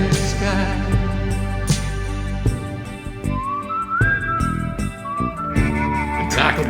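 A melodic whistling line from a song, heard as a sustained whistled tune sliding between notes over a band backing with steady drums.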